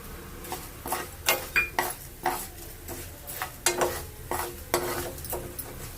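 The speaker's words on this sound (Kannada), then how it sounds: "ಚೆನ್ನಾಗಿ ಫ್ರೈ ಆಗಬೇಕಿದೆ" Cumin and coriander seeds fry in a pan, with a steady sizzle broken by repeated scraping stirs at an uneven rhythm, close and fairly loud, with no voices.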